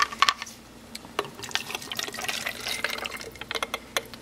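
Water is poured into a glass volumetric flask at close range, producing irregular splashing and trickling bursts with small clinks, building into a steadier filling sound toward the end.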